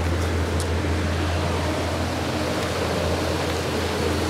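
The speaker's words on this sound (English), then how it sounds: "we're down here, my little creek here" A small creek flows steadily beside a road, a broad, continuous rushing wash of water close by and fairly loud, unbroken for the whole stretch with no voices over it.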